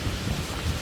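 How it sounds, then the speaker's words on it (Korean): Rushing water from an artificial waterfall in a park, heard from a distance as a steady low rumbling wash with no talk. "멀리서도 물소리가 생생하게 들리며"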